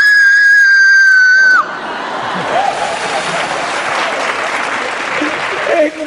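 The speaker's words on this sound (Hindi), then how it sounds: "जोर से चिल्ला सकते हो" Large crowd at a live band concert screaming and cheering loudly and continuously, following a brief sustained tone at the start, with a hint of voices in the din.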